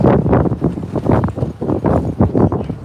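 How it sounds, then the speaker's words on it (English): Gusty wind at an outdoor RV show in Florida buffets the microphone in loud, irregular rumbling bursts, one after another, with no other clear sounds. "windy here."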